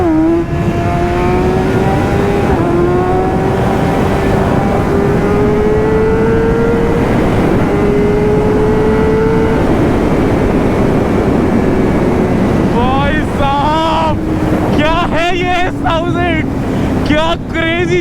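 A BMW S1000RR sportbike on its stock ECU pulls hard in third gear, its loud engine note rising steadily and continuously close by, with wind rush over it.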